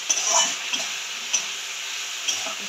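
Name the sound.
ginger frying in oil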